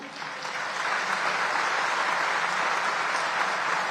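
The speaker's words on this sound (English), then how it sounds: "I want to invite all of you to give a round of applause for Mr. Gurumurthy" An audience at a 55th anniversary event gives a round of applause, dense steady clapping that fills the room for several seconds with no talk over it.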